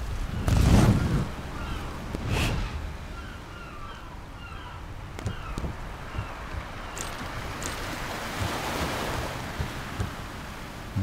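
Sea waves and wind roll through an outdoor coastal scene in the video game Arcania: Gothic 4, with deep crashing surges early on, a constant airy wash afterward and faint bird calls scattered over it.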